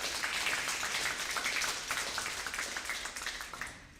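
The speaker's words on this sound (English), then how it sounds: "Let's give her a round of applause." Applause from an audience at a college welcome and keynote event, a steady wash of many hands clapping at moderate distance that gradually thins and fades out toward the end, with no voices over it.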